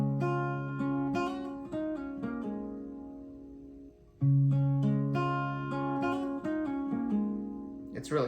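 Acoustic guitar picking a quick G-shape pattern with pull-offs to open strings, ringing notes cascading twice in a clean, close, solo run with no talking.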